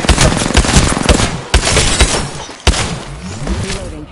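Rapid bursts of automatic gunfire from the video game Apex, close and loud, with dense rattling volleys and a few sharp single shots standing out over four seconds.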